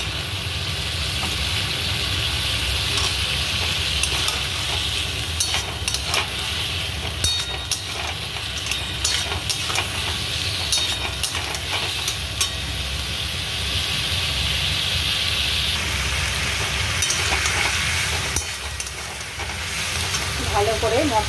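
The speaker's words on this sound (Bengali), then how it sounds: "ভালো করে মশলার সাথে ঝিঙে আর বেগুনটা কষে নেব।" Ridge gourd and eggplant stir-frying with spices in a pan, a steady loud sizzle and hiss with scraping and clattering of a spatula running throughout, no voices.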